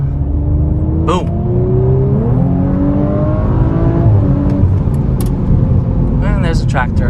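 A 2019 Audi RS5 Sportback accelerating, engine droning steadily and rising in pitch through the gears from inside the cabin, with someone talking over it.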